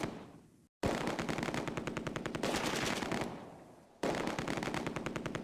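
Machine-gun fire in the Close Combat A Bridge Too Far war game, loud rapid bursts of automatic fire with a brief gap and sharp restarts, battle sounds filling the whole stretch.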